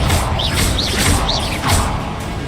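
Confringo blasting spell cast in Hogwarts Legacy, repeated whooshing bursts with rising and falling magical tones and crackling impacts, several casts in quick succession, loud and close.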